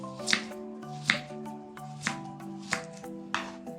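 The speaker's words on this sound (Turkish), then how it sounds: "Kabuğunu soyduktan sonra piyaz şeklinde doğrayalım." Five sharp knife strikes chopping an onion on a cutting board at steady intervals, close and crisp, while a soft musical tone hums beneath.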